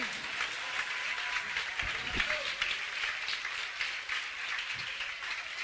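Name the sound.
church congregation applause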